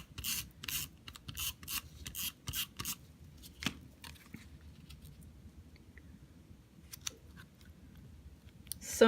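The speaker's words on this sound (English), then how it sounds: "I'm just going to adhere it with some rolling adhesive" Rolling adhesive tape runner pressed along metallic journaling paper, giving a quick series of close, dry rasping strokes at the start, then quieter scattered rubbing and taps.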